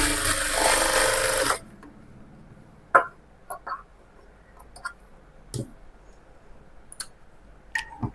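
A sewing machine runs briskly for about a second and a half, roughly stitching the folded sleeve hem of a blouse, then stops, leaving scattered light clicks and handling taps.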